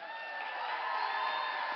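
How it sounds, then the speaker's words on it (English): Crowd at a closing session of a week-long conference cheering and whooping with applause mixed in, a steady wash of noise under a faint voice. "a really, really big round of applause for Susie Rakowski."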